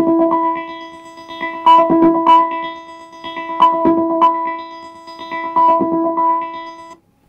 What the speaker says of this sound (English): So this is the sound of the murf.